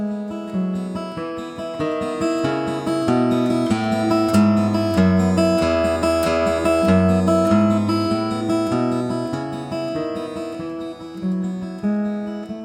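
Picked notes on a single instrument in a dynamics exercise, starting soft, swelling steadily louder, then easing back to quiet, played alone as a continuous melodic run.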